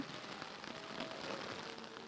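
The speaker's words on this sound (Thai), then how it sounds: "ดูดิฝนตกขนาดเนี้ย" Heavy rain pours steadily onto surfaces at an outdoor temple ceremony in Thailand, a dense, even hiss with no pauses or talking.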